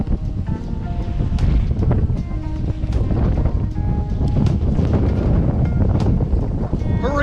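Wind buffets a boat out bass fishing on the water amid grass and rough weather, a steady loud roar with gusty microphone noise throughout and no clear voices.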